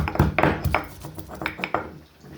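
Ingredients pounded coarsely in a small stone mortar, a handful of heavy clunking strikes with gritty scraping between them, close up and uneven in rhythm.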